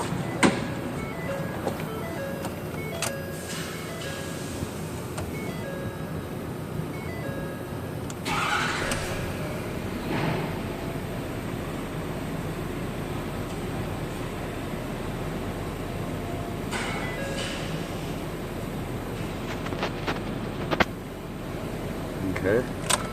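Ford 6.7-liter Powerstroke diesel truck runs at a steady rumbling idle after starting, with a person talking over the engine.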